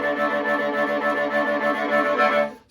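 Viola sawing rapid 16th notes on the string, a dense continuous buzz of short strokes for about two and a half seconds before stopping, close and unaccompanied.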